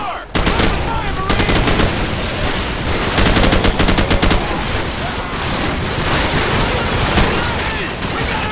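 Heavy suppressing automatic gunfire from a Call of Duty 4 battle, with continuous loud bursts from several guns, booming impacts, and soldiers shouting over the shooting.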